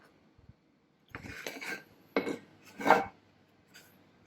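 A vernier caliper tip scribing a line across pin board, three short, separate scratchy strokes close by with quiet gaps between them, plus a faint tap before and after.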